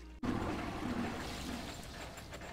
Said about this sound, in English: Can I flush? Chain and handle.